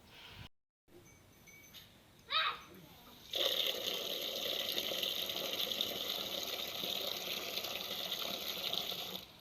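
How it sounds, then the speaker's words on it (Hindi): Water pours steadily into a container, a constant gushing stream that starts after a few brief clinks and handling noises. "पानी भर लिए हैं।"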